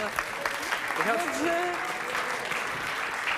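Audience applause at a French comedy show, clapping for a young Spanish man on stage, heard under a voice and laughter, moderately loud and continuous through the moment.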